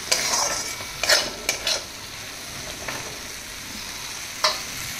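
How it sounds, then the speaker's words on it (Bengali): Spices with ground coriander sautéed in a pan for a Bengali-style dish: a steady sizzle and stirring, punctuated by several sharp scrapes and clinks of a utensil against the pan. "ধনে গুঁড়ো দিয়ে এটাকে এবার ভালো করে একটু কষে নিই"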